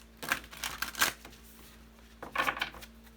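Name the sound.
shuffling tarot cards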